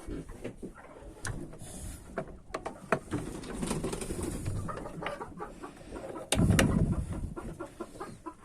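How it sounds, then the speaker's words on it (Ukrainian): Chickens cluck and shuffle nearby with scattered pecking, scraping and fluttering, a busy flock of chickens and ducks settling into a small coop. "курі позаходили, качки заганяю, всіх закриваю"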